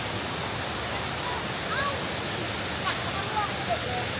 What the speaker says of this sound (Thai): ที่นี่น้ำตกเทพพนา